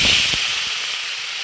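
River fish dropped into hot, smoking mustard oil in a wok, a sharp, loud burst of hissing, crackling spatter right at the start that settles into a steady bright sizzle.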